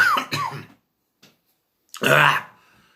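Two sharp coughs close up, then a pause with a faint click, followed by a harsher throat-clearing cough.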